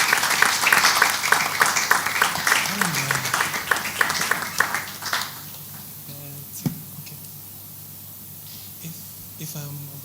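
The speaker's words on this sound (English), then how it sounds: "With an applause, let's welcome Soromfe Uzoma." An audience claps in applause to welcome a speaker to the stage at an innovation event. The clapping is dense and steady for about five seconds, then fades into a quiet room with a few scattered sounds.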